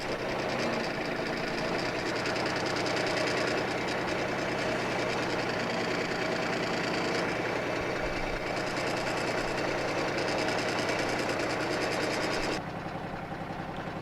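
A used backhoe's diesel engine runs steadily while its hydraulic functions are operated, a loud continuous rumbling drone with faint mechanical knocking, unbroken until it drops off abruptly near the end.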